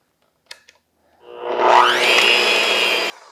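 Two light clicks, then a loud electric mixer whirs up and runs steadily for about two seconds, whipping pumpkin pie spice whoopie pie filling before cutting off abruptly.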